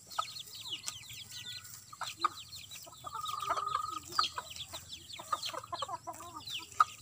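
Chickens clucking on a farm, several birds making repeated short clucks and calls, with scattered birdsong over a quiet background and no one talking.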